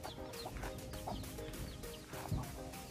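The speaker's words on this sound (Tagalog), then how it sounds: "Grabe. Ang daming manok mo" Several chickens cluck steadily at close range on a farmyard, with overlapping calls and a dense, continuous background of clucking and rustling.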